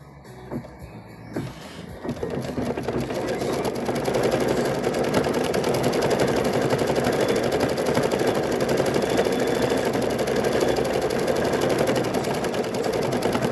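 An embroidery machine stitching a quilt held in a hoop, starting with a few clicks, then settling into a loud, rapid, continuous mechanical rattle and hum close by, with no talking.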